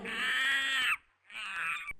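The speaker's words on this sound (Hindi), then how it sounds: "हैरान होकर सारे बंदर चिल्लाने लगे।" Monkeys in a jungle shriek in alarm in two loud, harsh, drawn-out screeches separated by a short pause, sounding close and shrill.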